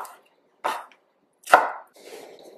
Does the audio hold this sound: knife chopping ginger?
yes